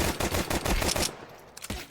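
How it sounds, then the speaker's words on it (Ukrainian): Rapid rifle fire in a Counter-Strike 2 match on the Inferno map comes as a dense stream of sharp shots, then a pause and a couple of separate cracks, loud and close with no talking. "Потім тут перестріляв вже в тіло купою пострілів."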